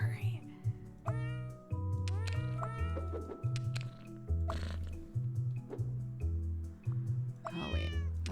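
Cat meows in many different tones, some chirpy and some drawn out, sound again and again over a bouncy repeating music track, with a voice talking at times.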